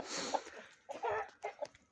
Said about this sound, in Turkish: Bu da tavuğumuz.